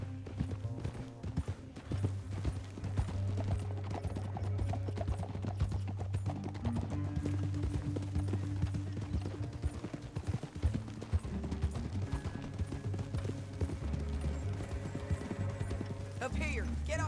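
Horses' hooves clip-clop steadily in the Red Dead Redemption 2 video game, a continuous rhythmic trot running beneath people talking and background music.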